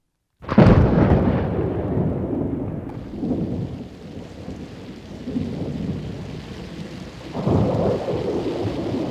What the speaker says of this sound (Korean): 천둥번개 요란하고 굵은 장대비가 사방을 적셨던